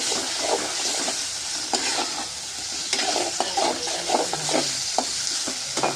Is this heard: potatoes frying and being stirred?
yes